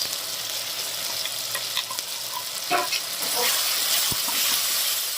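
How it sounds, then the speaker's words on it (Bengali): Onion, ginger and garlic fry with masala in a pan for a chicken dish, giving a constant soft sizzle and hiss with a few clinks and scrapes of stirring. "একটু ভালো করে ভেজে নেব"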